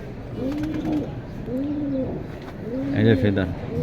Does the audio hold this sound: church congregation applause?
no